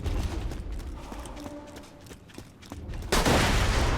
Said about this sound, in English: I shot an explosive barrel that was behind you.